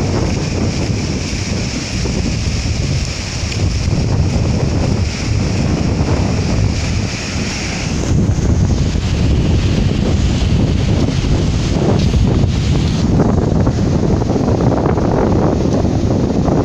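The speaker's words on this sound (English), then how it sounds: "So the ocean look like in the morning." Ocean waves and strong wind on a beach in the morning, a steady loud roar of surf with heavy wind buffeting the microphone throughout, no voices.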